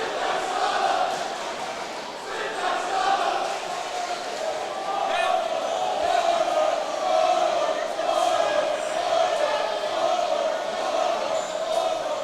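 Rowdy basketball fans in a district semifinal cheering section yell and chant back and forth, a dense, loud crowd roar sustained throughout the indoor gym.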